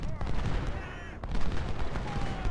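Cannon and musket fire in an American Civil War battle game at Gettysburg, dense crackling volleys and booms rolling continuously.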